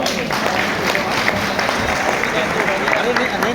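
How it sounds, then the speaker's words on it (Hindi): An audience at a gathering applauds in a dense, continuous patter of clapping that stays loud throughout, with a voice mixed in. "मैं फिर ताली बजाना चाहता हूं।"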